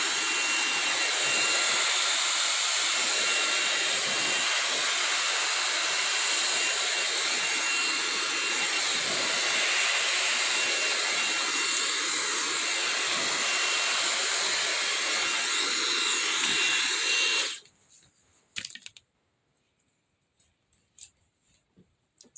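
A hair dryer runs steadily at close range, drying hair after a leave-in treatment, with a loud continuous blowing roar that cuts off abruptly near the end, leaving near silence with faint small handling sounds.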